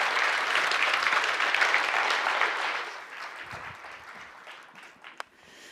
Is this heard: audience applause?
yes